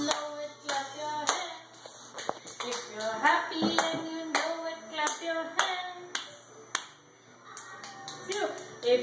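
Hands clap in a steady beat along to a children's sing-along, sharp claps repeating every half second or so with a voice and music underneath.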